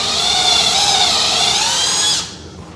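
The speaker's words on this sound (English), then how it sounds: "I'm gonna line it up and just drill a small hole" A power drill whirs steadily at high speed while boring a small hole into a baby gate's trim, loud and close for about two seconds before abruptly stopping, with no talk.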